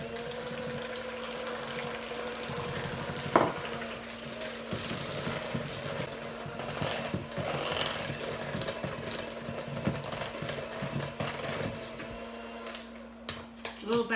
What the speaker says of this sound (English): to this day I use a hand mixer